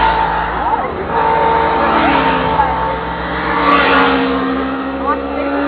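A motorcycle approaches and passes on a trail during a mountain bike ride to a waterfall, with engine noise rising and falling under a steady drone and people talking over it.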